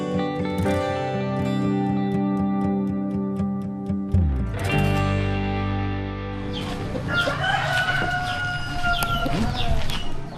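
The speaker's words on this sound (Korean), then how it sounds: "시계 알람이 아닌 닭 울음소리로 하루를 시작합니다." A rooster crows loudly and close at dawn in an Indonesian village, with a long drawn-out call followed by further crowing and clucking over steady background noise.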